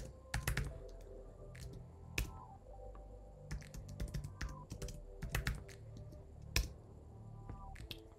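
Fingers type on a computer keyboard in quick, irregular clusters of crisp clicks, with short pauses between bursts, close and fairly quiet.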